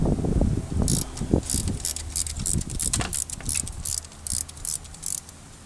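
A ratchet wrench loosens a 12 mm bolt on a metal bracket in the engine bay of a 2001 Toyota Avalon, giving a series of fast, close metallic clicks over low mechanical clunks.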